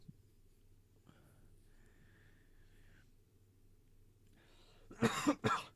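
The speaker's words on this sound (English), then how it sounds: "Apologies if I'm coughing, guys." Two sharp, loud coughs arrive close together near the end, after a stretch of quiet room hum with faint background tones.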